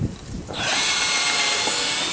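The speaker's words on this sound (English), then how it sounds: "And of course we always pre-drill" A power drill pre-drills screw holes in wood for a deck roof, starting after a brief pause and then whirring steadily and loudly at close range without interruption.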